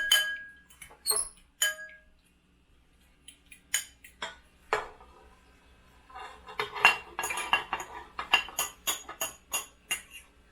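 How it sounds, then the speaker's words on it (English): Butter and sugar are mixed in a bowl for blueberry muffins: irregular metallic clinks and taps of a utensil against the bowl, sparse at first, then a busier run of scraping and clinking. "So we can just throw that into our mix and mix that in with our butter and our sugar"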